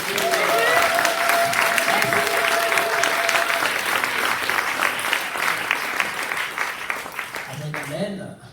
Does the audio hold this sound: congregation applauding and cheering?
yes